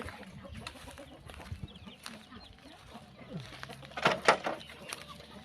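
Chickens clucking at feeding time on a Thai farm, scattered soft clucks and rustling at a moderate distance, with a louder burst of squawking near the end and faint voices in the background.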